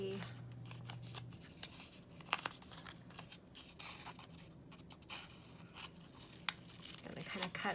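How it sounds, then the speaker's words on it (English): Scissors snip a shape out of sticker paper with light, irregular close clicks and crisp cuts, plus soft rustling of the paper between them, under a quiet background. "Gonna kind of cut a shape out of it."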